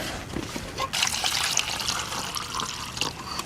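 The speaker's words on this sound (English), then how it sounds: "We'll add some water." Water is poured from a container into a small cooking pot set over a solid fuel tablet burner outdoors, a steady splashing trickle that swells after the first second and continues alone.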